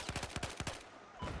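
Rapid bursts of automatic gunfire from Battlefield 4 gameplay, a quick run of sharp shots for most of the moment, a brief lull, then firing resumes, loud with no talk over it.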